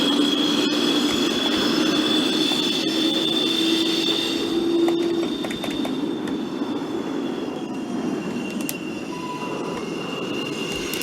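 A New York subway express train, an NYCT R62A-style consist on the Pelham line in the OpenBVE train simulator, rumbles along steadily with a continuous loud rolling roar, faint wheel squeal and a few short clicks, with no talking.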